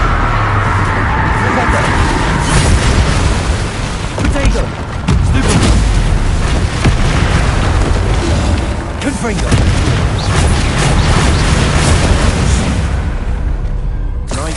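Confringo and Bombarda spells blasting in the video game Hogwarts Legacy, heavy booming explosions layered over continuous loud combat noise, with voices calling out throughout.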